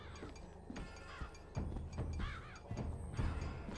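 A crow caws in the video game Bioshock Infinite, giving a few separate rasping calls spread over steady background game ambience.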